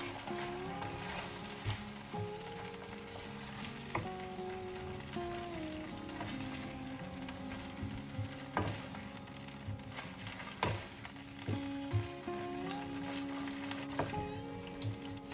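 Vegetables frying with two to three spoonfuls of tomato sauce, a quiet, steady sizzle with occasional scattered stirring knocks and taps, and a faint tonal hum in the background.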